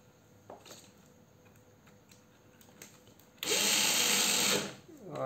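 A cordless drill, a secondhand Nati unit, spins up loud and steady for about a second, then winds down, after quieter handling noises.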